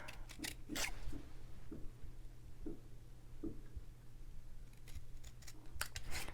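Quiet, repeated snips of scissors cutting through cardstock, irregularly spaced, close by with a low background hum and no speech.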